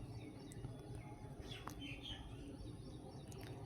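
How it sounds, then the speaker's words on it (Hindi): Birds chirp in the background, with small high tweets scattered through a steady low hum, faint and distant, and no talking. "आपको वीडियो में चिड़ियों की चहचहाने की आवाज़ आ रही होगी"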